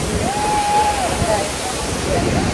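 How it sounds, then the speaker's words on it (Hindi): Hebbe Falls in Chikmagalur roars as a loud, steady wash of falling water close by, with a crowd of visitors and voices blending into the rush. "हम पहुंच गया है हेवी फॉल्स वाटरफॉल पे।"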